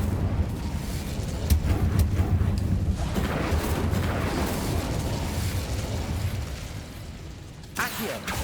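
A fiery Incendio spell bursts in Hogwarts Legacy as a sustained roaring whoosh with crackling pops, holding steady for several seconds before fading, with a second short flare near the end.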